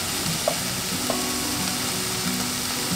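Asafoetida, turmeric, chilli powder and coriander powder fry in hot oil with a loud, dense, continuous sizzle. Light stirring clicks sit on top and a faint mechanical hum runs underneath.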